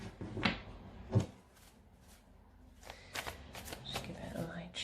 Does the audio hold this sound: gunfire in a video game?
no